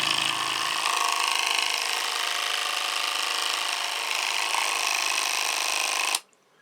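A small electric paint shaker, holding a clear bottle, runs with a loud, steady buzzing whir for about six seconds and then abruptly shuts off.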